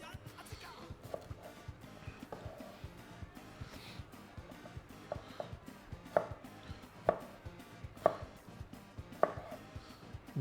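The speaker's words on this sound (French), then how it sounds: "Les haricots, est-ce qu'on les coupe?" Knife chopping green beans on a cutting board, a run of sharp, evenly spaced chops that grow louder and more distinct toward the end, over faint background clatter.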